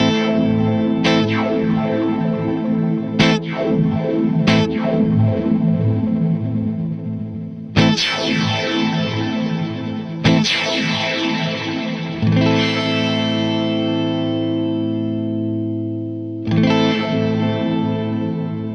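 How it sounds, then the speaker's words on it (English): Sustained guitar chords and plucked notes run through a delay and reverb pedal with a freeze function, struck repeatedly so each attack rings into long, held, shimmering tails that layer and hang without any talking. "Even if you're not in the market for a new delay or reverb pedal, this has one of the coolest freeze functions around"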